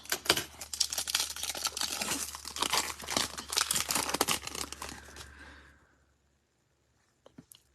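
A hockey card pack being torn open during a card break: about five seconds of dense, close crinkling and ripping foil wrapper, then near silence with a few faint clicks at the end.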